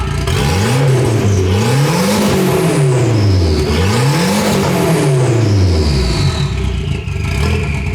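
A decatted engine on a rare budget car revs hard with no exhaust fitted, rising and falling in repeated loud sweeps that sound raw and rasping, close by and steady for the whole stretch.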